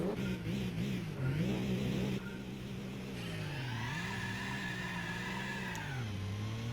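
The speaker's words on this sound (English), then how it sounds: "Once again, a bunch of wheel spin" Race cars in Gran Turismo 4 spin their wheels at the start of a turbo sport race, engines whining and revving with rising and falling pitch, several overlapping and fairly quiet.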